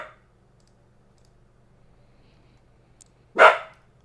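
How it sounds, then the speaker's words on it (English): A dog named Max gives one short, sharp bark, nearby and fairly loud, after a long quiet stretch with faint clicking in the background. "Stop barking."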